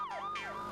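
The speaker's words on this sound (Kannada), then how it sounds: "ಇದು ಚಿಂಗಂ ಸರ್ ಸೈರನ್." A cartoon police siren wails in a rising and falling tone, two quick sweeping cycles heard close and alone in a brief burst.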